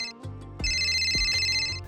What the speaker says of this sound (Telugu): ఇదేంటి ఫోన్ రింగ్ అవుతుంది?